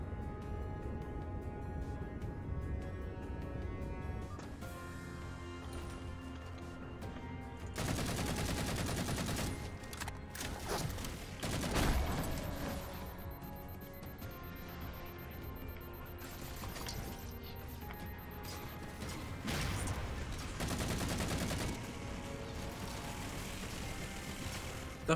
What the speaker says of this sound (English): The fuck is shooting at us at like 12 billion rounds per minute?